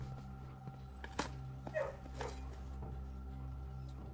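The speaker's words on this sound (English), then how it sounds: "There are dogs. See, look. Doggy. We are in the kennel." Dogs in a kennel in the Blue Prince video game, giving a few brief, quiet barks and yips over a steady low game hum.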